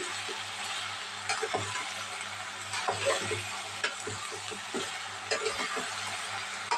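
Broad beans and eggplant fry in a pan while being stirred, steady close sizzling broken by repeated scraping and clinking strokes of the spoon against the pan.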